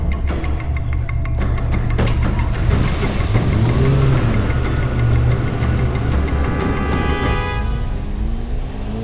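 A car engine runs and revs steadily, rising in pitch as the vehicle accelerates away, loud and continuous throughout.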